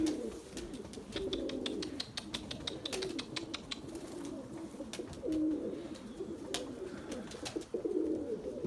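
Pigeons, white birds of a single bloodline, coo steadily over several seconds, with soft wing flutters and faint chirps mixed in nearby.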